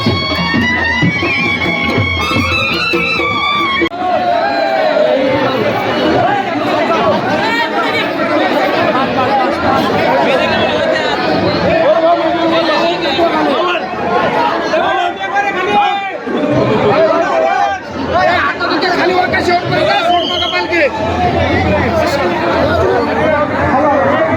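Dense crowd chatter and babble fill a goddess palanquin procession at a village temple fair on a hill ghat, many voices overlapping continuously and loudly throughout.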